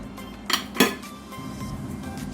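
A metal lid is set onto a pot of chicken hamonado simmering on the stove, giving two quick clanks close by, followed by a low steady simmer.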